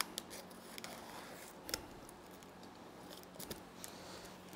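A razor blade slicing through heavy packing tape on a well-taped cardboard box holding a limited edition Eminem MMLP2 Bumpboxx Flare8 speaker: sparse close scratchy cuts and crackles over a low steady room hum, with no talking.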